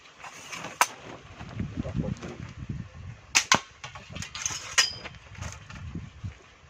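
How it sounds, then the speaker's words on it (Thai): A toy gun is test fired indoors, with a few sharp snapping shots and mechanical clicks spread over several seconds, and someone talking quietly between them. "ใส่ลูกเข้าไปแล้วก็ยิงครับ"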